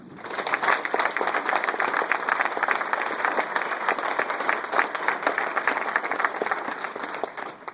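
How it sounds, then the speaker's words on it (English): Steady, dense applause fills a hall at an evening VFW event as an audience claps for a group of honored students, the sound full and sustained from start to finish without any voices. "I think all these students deserve a round of applause"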